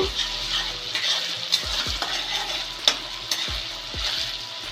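New potatoes frying in hot oil in a pan for aloo dum, a dense, close sizzle punctuated by a few sharp spatula knocks against the metal, with no voice.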